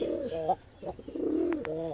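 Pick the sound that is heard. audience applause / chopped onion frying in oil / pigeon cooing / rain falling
pigeon cooing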